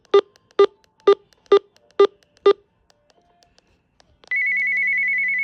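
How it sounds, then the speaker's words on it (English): A walkie-talkie radio with its mode and menu buttons locked sounds a series of six short, evenly spaced beeps as a button is held, then a steady, sustained confirmation tone starts and holds to the end. "So I hold this, you hear the chime"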